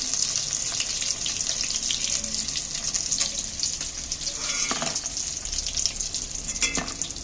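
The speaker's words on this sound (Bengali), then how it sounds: "আমার মাছগুলো ভাজা হয়ে একদম লাল লাল হয়ে গেছে" Spiced rohu fish pieces fry in hot oil with a dense, continuous sizzle and bubbling hiss, close and steady, broken by a few light scrapes and clicks of a utensil.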